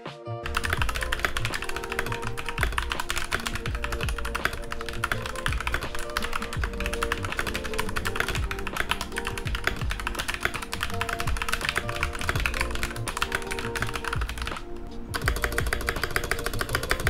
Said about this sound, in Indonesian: Jadi gue kasih aja typing test dari keyboard ini.